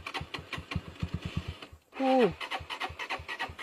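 A motorcycle engine sputters in rapid, even pulses as someone tries to start it, with a brief break while someone shouts an exclamation.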